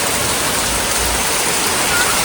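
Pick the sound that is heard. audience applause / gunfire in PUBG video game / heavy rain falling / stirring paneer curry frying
heavy rain falling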